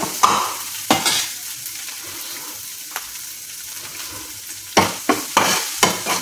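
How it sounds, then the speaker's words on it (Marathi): Finely chopped onion frying in hot oil with green chillies for a bitter gourd dish, a soft continuous sizzle broken by several sharp scraping bursts of a spoon stirring in the pan. "आता यामध्ये मी बारीक चिरलेला कांदा टाकते"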